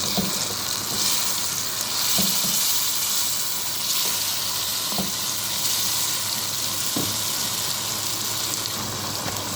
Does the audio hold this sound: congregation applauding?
no